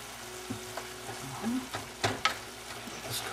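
Broccoli rabe frying in a pan with vegetable stock cubes, salt and black pepper, giving a faint steady sizzle with a few soft stirring knocks and clicks, close and without talk.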